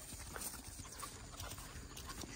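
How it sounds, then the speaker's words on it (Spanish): A horse penned in a corral in the hills, its hooves clopping in an irregular series of soft knocks against faint outdoor background noise. "pues aquí está un caballo."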